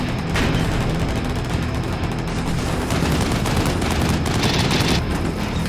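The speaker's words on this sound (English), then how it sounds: "Humvees on the north side begin firing on my troops on the south side" Humvee-mounted guns in Combat Mission Shock Force rattle off sustained bursts of automatic fire, a dense, loud, continuous barrage of rapid shots with faint distant booms mixed in.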